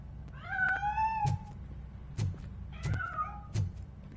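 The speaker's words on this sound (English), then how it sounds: "That cat must be hiding inside." A cat hidden inside a piano meows several times in Robocop: Rogue City. The clear, rising meows are separated by soft thumps and clicks in a quiet room.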